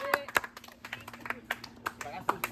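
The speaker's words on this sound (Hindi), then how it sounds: "ताली बजा भाई, ताली बजा" Scattered claps from people applauding the winning team at a final match, sharp uneven hand slaps mixed with ongoing talk and voices.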